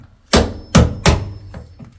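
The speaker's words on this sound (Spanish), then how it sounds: "le metemos un viaje ayudándonos de un martillo" A hammer drives a screwdriver against a ceramic wall tile in three heavy, close strikes about a third of a second apart, then two lighter taps, with no speech.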